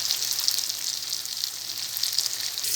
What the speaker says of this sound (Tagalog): Sinita ko na yung sibuyas bawang. Lombat na aroma. Nalagay ko na ang chicken.